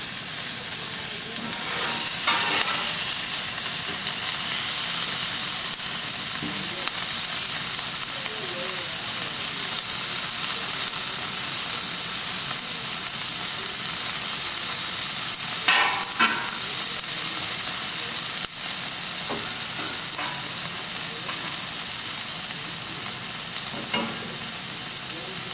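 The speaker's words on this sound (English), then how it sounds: "Go ahead and stir everything together." Omelette mixture with hash browns sizzles loudly on a Camp Chef FTG600 flat top grill, a steady bright hiss of frying with intermittent scraping strokes of a spatula stirring, close and continuous.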